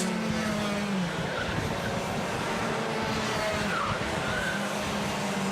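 Karts racing on track in a Club100 Heavyweight Sprint Championship pre-final at Red Lodge: a continuous loud buzz of small engines with rising and falling pitches as karts pass, no voices.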